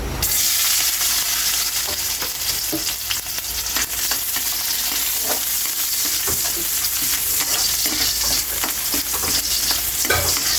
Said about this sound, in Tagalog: ilagay na natin ang ating bawang. Gigisahin na natin.